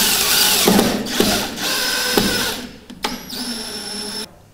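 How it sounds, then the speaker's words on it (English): A screw gun drives a screw into a boat hull during stripping, with several loud whirring bursts and brief ratcheting, then the motor winds down to a fading whine. "So I'm going to go ahead and put that screw in right now."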